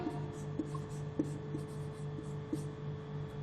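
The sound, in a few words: writing notes during a lesson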